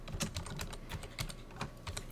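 Quick, light keystrokes on a computer keyboard while entering a label in a spreadsheet: a close, quiet run of irregular clicks over about two seconds, alone with no voice.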